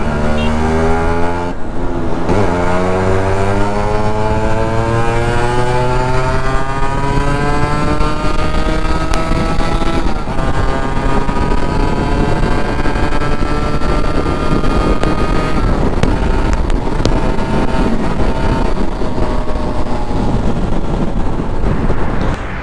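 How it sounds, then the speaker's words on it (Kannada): A restored Yamaha RX-Z motorcycle with a stock silencer revs hard and accelerates through its gears, each shift followed by a rising two-stroke whine, loud and close throughout. "ನಮ್ಮ R X Z gear to gear ಎಷ್ಟು ಟಾಪ್ ಎಂಡ್ ಹೋಗುತ್ತೆ, ಎಷ್ಟು ಫಾಸ್ಟ್ ಆಗಿ ಹೋಗುತ್ತೆ ನೋಡೋಣ"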